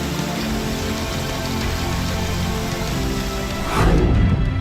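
Heavy rain pours down during flooding in Uttar Pradesh, a loud, dense, unbroken hiss that swells briefly louder near the end, with no voices.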